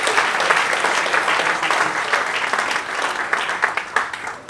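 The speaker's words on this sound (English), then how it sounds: "Can we give one more hand clap?" A church congregation gives a round of hand clapping, dense and close at first, then thinning into looser, more separate claps with a few sharp individual hits toward the end.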